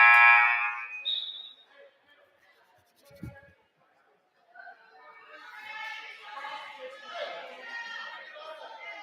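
A loud electronic buzzer blares for about a second to end a period at a high school wrestling championship, followed by a quiet gap and then rising crowd chatter in the gym.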